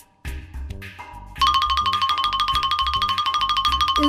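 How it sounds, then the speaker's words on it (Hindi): An electronic doorbell chime rings out: a couple of soft tones, then a rapid, bright repeating ring that continues steadily, close and loud. "घंटी बजी है, गेट खुलवाइए।"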